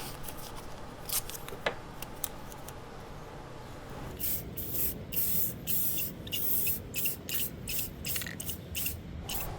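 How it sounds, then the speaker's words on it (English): Spray paint hisses in a run of short, close bursts over the lettering of a wooden desk name plate, with the sprays coming faster and more rhythmically in the second half. "We're going to come in with some spray paint and spray paint this."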